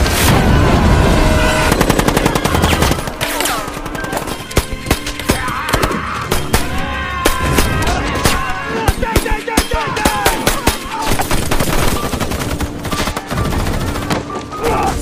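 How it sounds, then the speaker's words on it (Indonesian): Dense battle gunfire from a war film set on Saipan against Japanese troops, loud rapid bursts of rifle and machine-gun shots with booming impacts, continuous and close, mixed with shouted voices and dramatic score. "Joe Anders dan yang lainnya masih terus berjuang menghadapi serangan dari tentara Jepang"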